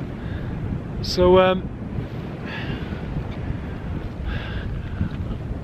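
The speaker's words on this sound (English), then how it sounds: "the wind's starting to pick up here, and it's gone pretty windy and cold" Wind blowing across a mountain summit by a cairn in the Black Mountains of the Brecon Beacons, a steady rushing buffet on the microphone with a brief voice over it.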